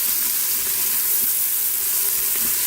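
Green chilies in hot oil sizzle inside an Instant Pot, a dense, steady crackling hiss that runs unbroken and fairly loud throughout.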